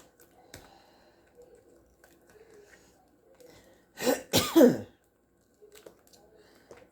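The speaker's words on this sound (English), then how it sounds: "I have to blow my nose" A short, loud burst of nose blowing, two quick forceful honks into a tissue, with quiet shuffling before and after.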